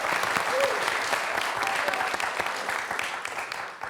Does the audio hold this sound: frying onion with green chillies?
no